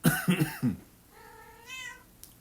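A house cat gives a few quick, short meows close by, then one longer, drawn-out meow, with no talking.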